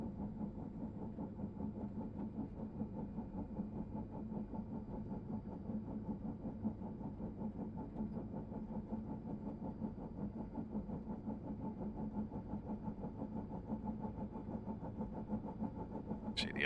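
A Guimbal Cabri G2 helicopter's piston engine runs steadily with the rotor clutch engaged, a continuous low mechanical hum and throb holding constant throughout, with no voices.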